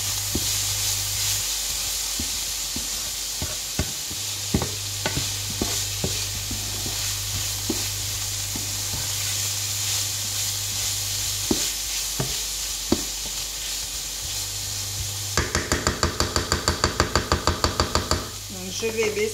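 A simmering dish being stirred in a pan, with soft scrapes and clinks over a steady low sizzle and hum, and a burst of rapid rhythmic bubbling or clatter near the end.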